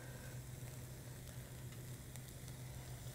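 Oil heating in a pan on a stove gives off a soft, continuous sizzle with faint crackles over a low steady hum, quiet and close, with no talk.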